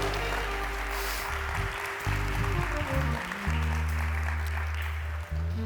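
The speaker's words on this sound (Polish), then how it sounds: "Wielkie brawa." An audience applauds at an award ceremony for the new business category, a steady wash of clapping that runs throughout under a low, sustained musical tone.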